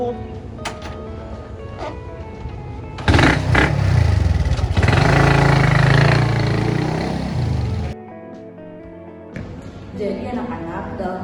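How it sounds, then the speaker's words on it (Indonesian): A new motorcycle passes with a loud engine roar and clatter that rises and fades over several seconds, with quieter ambient sounds before and after. "Pakai motor baru."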